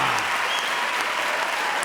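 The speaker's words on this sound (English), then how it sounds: "A thunderous applause erupts" Thunderous crowd applause at a contest as a winner is announced, a dense wash of clapping that stays loud and steady throughout.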